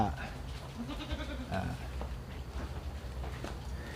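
Goats bleat repeatedly on a goat farm where they are being fattened, their cries close and fairly loud against a continuous background, while someone talks over them throughout.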